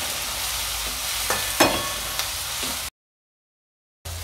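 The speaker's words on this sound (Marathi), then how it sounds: "चिरलेला टमाटाही त्यात टाकून आपण सर्व मिश्रण एकत्र करून घेऊया" Chopped tomato being stirred into a sizzling masala mixture in a pan for a spicy rassa curry, a steady frying hiss with a few sharp scraping clicks, then a sudden cut to silence before the sizzle returns.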